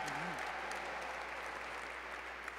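Applause from an awards ceremony audience, a short burst of clapping at moderate distance, steady and fading slightly over a couple of seconds.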